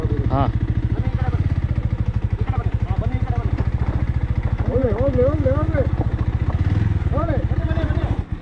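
A motorcycle engine runs steadily at close range, idling with a throbbing, even rhythm after starting with the clutch released, while people talk loudly over it throughout.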